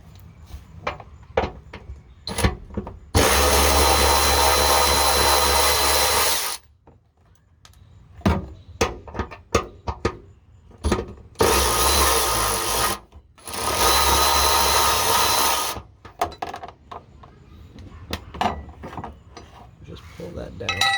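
A power tool removes two 12mm nuts under a car, a 2019 MK7 VW GLI 2.0T, with loud sustained whirring bursts of several seconds separated by clicks, ratcheting and clanks of tools.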